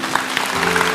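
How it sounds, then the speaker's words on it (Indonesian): A church congregation claps for its multimedia team, a dense, steady patter of many hands over about a second, fairly loud with a low hum beneath. "Kasih tepuk tangan untuk mereka."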